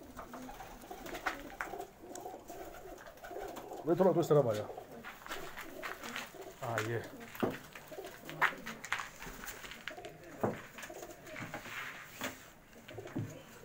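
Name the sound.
pigeons cooing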